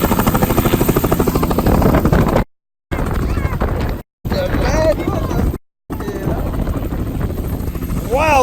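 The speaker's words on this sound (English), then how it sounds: "he's never been on a helicopter before" Helicopter rotor and turbine roar up close and loud, with rhythmic blade chop at first, broken by several brief dropouts, while voices talk and exclaim over the engine noise.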